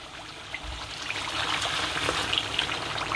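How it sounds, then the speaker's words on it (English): Rice and beans cooking together in a pot on a gas stove, giving a steady close wash of soft bubbling and simmering with small pops throughout, no talking. "Ooh, bubbling."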